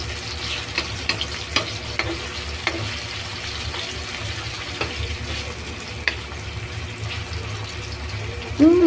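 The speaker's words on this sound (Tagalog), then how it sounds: "Tapos lutuin natin yung sibuyas at kamatis." Onion and tomato sizzle in a pan for chop suey, a steady close frying hiss with occasional scrapes and stirring clatters, and a brief tonal sound at the very end.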